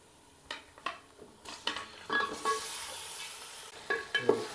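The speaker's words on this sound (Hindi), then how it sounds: "1 kg चिकन हम लोग इस जहाँ पे ऐड करेंगे, इसको थोड़ा सा ब्राउन करेंगे" One kilogram of chicken browning in a karahi for white chicken karahi, with scattered scrapes and clinks of a spoon against the pan, then a louder burst of sizzling hiss, and more stirring knocks near the end, no voices.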